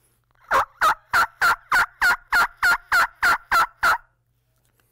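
A hand-operated turkey call imitates a wild turkey hen's yelp: a dozen evenly spaced, loud, raspy notes in a steady run, then stopping into quiet.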